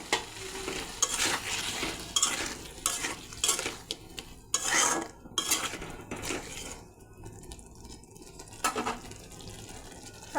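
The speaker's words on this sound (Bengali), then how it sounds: "মশলাটা কষানো হয়েছে, এখন ভেজে রাখা আলু দিয়ে দেবো। আর একটু জল দিয়ে দেবো।" Fried potatoes and a splash of water go into a cooked-down spice masala for a fish-head and potato curry, followed by repeated scraping and stirring of a spoon against the pan, with clattering and a light sizzle, close and steady.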